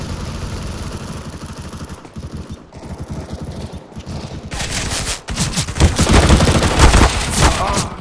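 Rapid bursts of gunfire in a shooting video game, sustained volleys that grow louder and denser toward the end, with brief mechanical engine-like noise underneath.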